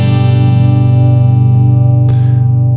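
A sustained clean electric guitar tone rings steadily with a bright, undistorted sustain, and a brief noisy swipe cuts through near the end.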